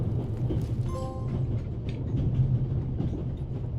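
A train rumbles in The Raven Remastered video game, a steady low rolling drone with metallic rattles and a brief squeal, loud and continuous.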